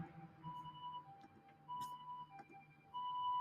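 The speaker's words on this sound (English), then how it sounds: "There's an ambulance going past my house right now." An ambulance siren wails faintly from outside a house, its rising and falling tone repeating in a steady cycle over quiet indoor background.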